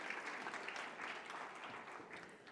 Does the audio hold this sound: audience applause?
yes